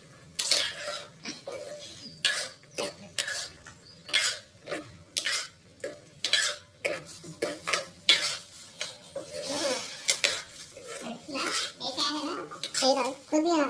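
Spoon stirring upma in a pan, with repeated scraping strokes and a soft sizzle, while a voice talks over it at times.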